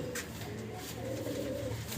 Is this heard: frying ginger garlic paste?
no